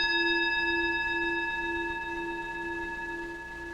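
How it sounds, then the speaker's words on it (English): A bell rung during a spiritual service gives one steady, pure ringing tone with clear overtones, sustained and slowly fading over several seconds, alone without talk. "So a bell for the great teachings that we hold dear."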